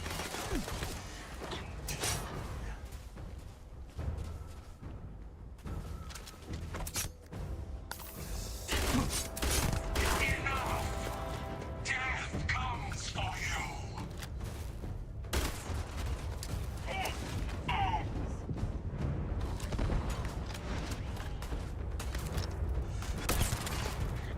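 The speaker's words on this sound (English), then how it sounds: "point blank range sniper shots to the face" Sniper rifle shots fired at point-blank range during combat in Starfield. Heavy, punchy blasts land at uneven intervals over dense mechanical clatter and game ambience, loud and close, with no talk.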